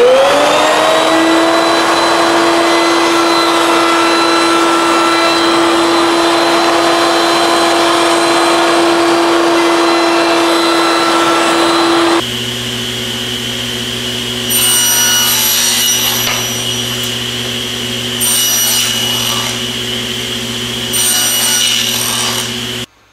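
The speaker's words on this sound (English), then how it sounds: "all I need to do now is round over the corners with an 1/8 inch radius roundover bit" Router fitted with an 1/8 inch radius roundover bit rounding the corners of cherry tenon stock, a loud steady motor whine running continuously, with the tone shifting partway through as the cut proceeds and intermittent brighter hissing bursts.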